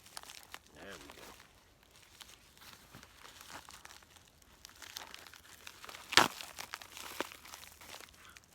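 A taped-up package of beard care products pulled open by hand, crinkling and crackling of packaging with one sharp rip, close up, while a person talks quietly.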